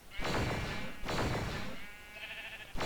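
Sheep in the Minecraft video game bleat twice in quick succession, clear and close, followed by a short softer sound and a thud at the end.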